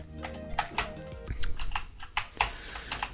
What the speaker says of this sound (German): Da könnt ihr dann wirklich auch mal so im Vergleich hören, wie laut eigentlich meine Tastatur ist.